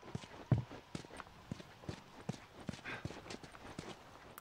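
Horse hooves clip-clop at a steady walking pace in the video game The Last of Us, a string of distinct, fairly close knocks against a quiet backdrop.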